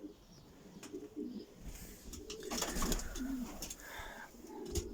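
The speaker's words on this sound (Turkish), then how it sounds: "Burada yumurtada yatan kuşlarımızı görüyorsunuz." Adana native pigeons in a coop, including nesting birds on eggs, giving soft low cooing calls repeated through the moment, with faint background rustling and distant chirps.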